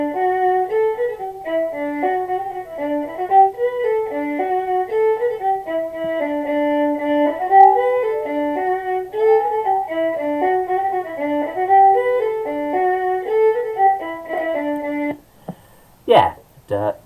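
An acoustic guitar tuned to DADGAD plays a lively Celtic polka, I Have a Bonnet Trimmed with Blue, in a steady bouncing rhythm with close, clear picked notes, ending abruptly with a brief burst of noise.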